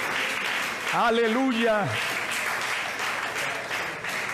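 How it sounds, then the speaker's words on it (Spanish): Church congregation clapping in a steady wash, with a voice calling out briefly over it near the start before the applause continues alone. "Un aplauso más fuerte para este Dios tan grande."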